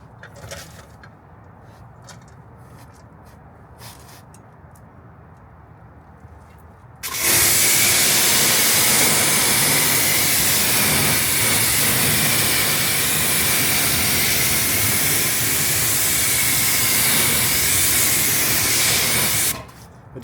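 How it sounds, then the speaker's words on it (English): A strong spray of water rinses soap off ceramic-coated wheels and tires. It bursts on after a few seconds of quiet outdoor ambience as a loud, steady, broadband hiss that runs almost to the end and then cuts off abruptly. "Let me go ahead and rinse this off real fast here before the soap kind of dries."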